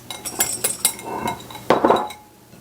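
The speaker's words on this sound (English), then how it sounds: "That gives me room to whisk." A whisk clinks and scrapes inside a large bowl while mixing flourless chocolate cookie batter, with quick uneven metallic taps and then a brief burst of brisk stirring, close and moderately loud.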